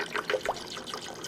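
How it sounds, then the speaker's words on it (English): About eight ounces of water is poured into a blender over a few ice cubes, making a close, gurgling, splashing pour with a quick bubbling rhythm. "So this is about 8 ounces of water that I'm throwing in."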